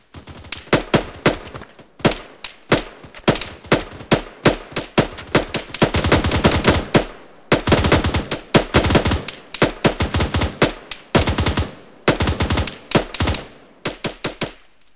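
Rapid bursts of automatic gunfire from an Arma 3 team-versus-team firefight, sharp cracks in quick strings with near-continuous volleys midway, loud and close with brief gaps between bursts.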